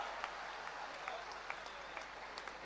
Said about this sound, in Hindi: सारा दिन तालियां बजाते रहेंगे आप